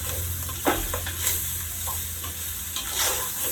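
Chopped vegetables sizzle steadily in a hot pan while softening for chili cheese mac, with a few stirring clatters and scrapes rising over the continuous frying hiss; no talking.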